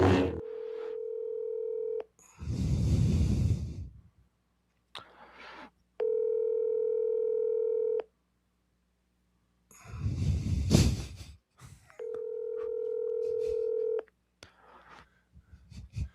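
A telephone dial tone alternates with bursts of DTMF keypad beeps, heard in three repeated cycles of steady tone broken by breathy noise between calls, no talk.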